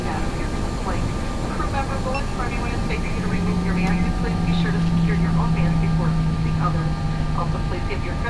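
A flight simulator A320 airliner taxis with its engines spooled up for thrust, a steady low roar and whine droning throughout while a person talks over it.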